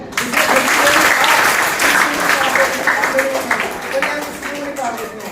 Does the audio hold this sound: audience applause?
yes